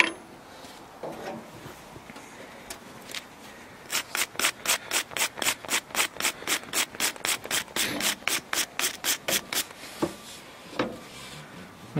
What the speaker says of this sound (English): clean these up, get them shiny, and with a wire brush, of course